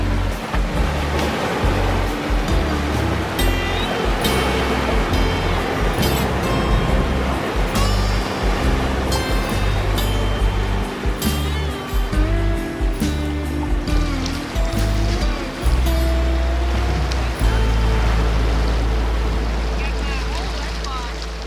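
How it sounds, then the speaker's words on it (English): Ocean waves washing onto a beach near Charleston, South Carolina, a loud continuous roar of surf with rolling surges, close and steady, with a voice heard faintly in places. "Our next trip was to the beach."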